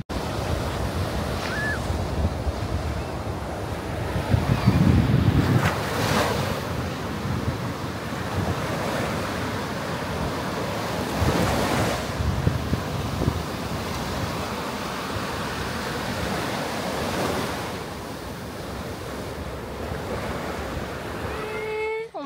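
Ocean waves roll and break on a beach in April at a campsite holiday, with steady wind buffeting the microphone; surges swell repeatedly over a constant roar, loud and close, with no talking.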